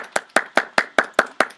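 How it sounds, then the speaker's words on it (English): A team receives applause: eight evenly spaced, sharp claps in a steady rhythm, close and loud, with no talking. "We're going to give you a round of applause"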